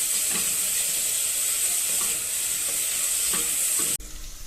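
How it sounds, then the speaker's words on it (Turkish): Onions sauté in a pan for a creamy mushroom pasta, giving a steady, bright sizzle with faint stirring scrapes, close and continuous, with no talking, before a sudden drop near the end. "Sotelemişlerimize devam ediyoruz."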